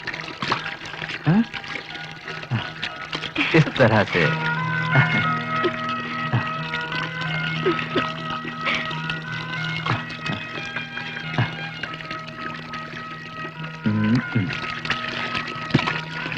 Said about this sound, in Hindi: घबराओ नहीं, थोड़ा ठंडा पानी मिलाने से सब ठीक हो जाएगा।